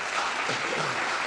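Brief burst of audience applause at a public comment meeting, a steady dense wash of clapping lasting only a moment.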